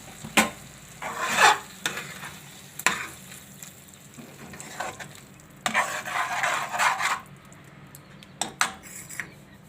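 Manchurian with its special masala is stirred in a hot pan over a gas flame: repeated scraping and clattering strokes of a spoon against the pan, in bursts over a faint sizzle, close and fairly loud.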